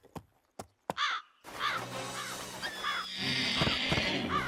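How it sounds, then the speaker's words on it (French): A cartoon crow caws repeatedly, harsh and nearby, after a few sharp knocks, with rustling and a swell of background noise toward the end. "Va-t'en, sale corbeau!"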